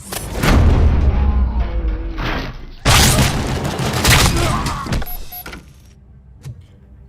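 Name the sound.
gunfire in the video game Robocop Rogue City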